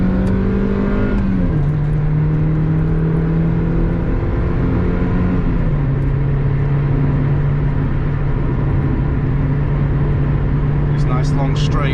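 An unmodified 2002 Mazda MX-5 NB with a 1.6 engine drones loudly from inside the cabin while driving on long straights, its pitch rising through the gears with shift dips, a voice talking over it at times.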